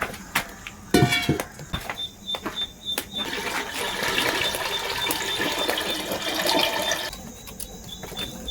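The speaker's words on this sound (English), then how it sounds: "I'm going to add a pot of water for ugali." Water pours into a pot set on an outdoor cooking fire for ugali, a steady splashing, trickling wash that runs for several seconds after a few clunks of handling, close and fairly loud.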